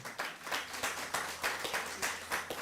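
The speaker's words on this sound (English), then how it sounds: "let's clap for our MP." Rhythmic bursts of hand clapping from a crowd in a parliamentary House sitting for the MP, a moderate steady patter lasting a few seconds without speech.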